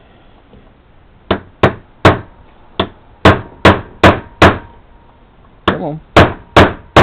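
Hammer blows tap a part down into a Lee bullet mold for 9x18 Makarov, about a dozen sharp, close metallic strikes in an uneven rhythm after a quiet start, with a brief spoken word among them.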